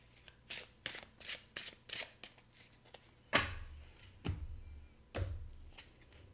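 A tarot deck being handled, a quick series of crisp card flicks and shuffles followed by a few heavier slaps as a card is drawn and set down, close and quiet with no voices.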